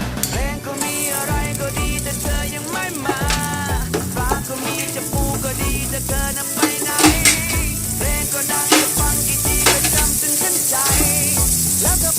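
Butter melts and sizzles loudly in a hot pan over medium heat, spitting with a continuous crackling hiss and scattered sharp pops throughout.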